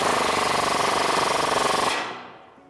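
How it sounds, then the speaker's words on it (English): An impact wrench with a 19mm deep socket drives a strut lower bolt tight on a Tacoma front suspension, a loud rapid hammering buzz that runs steadily for about two seconds and then cuts off and winds down. "Next, we can tighten up this lower bolt here. I'm gonna use a 19mm deep socket."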